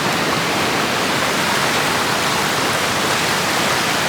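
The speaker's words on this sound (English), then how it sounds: "Photos and videos truly do not do this waterfall justice." A large waterfall in Washington State roars with a dense, constant rush of falling water, loud and close throughout with no pauses.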